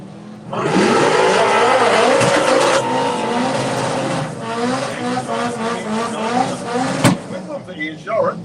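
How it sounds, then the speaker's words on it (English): A turbocharged VW Beetle launches hard down a drag strip lane, its engine roaring loud and close with rising revs and tire squeal, then fading as it runs off, while an announcer talks over it. "the turbocharged Beetle in our Kestrel Beer Lane"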